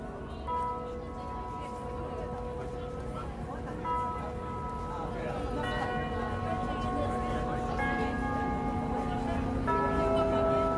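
Bells ring out at one o'clock on a Tokyo street in a layered, sustained peal, new strikes overlapping the lingering hum of earlier ones, with faint background noise throughout.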